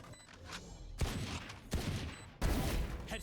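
Gunfire in the video game Valorant: three loud, sharp bursts of shots about a second apart, each with a brief ringing tail, with no talk over them.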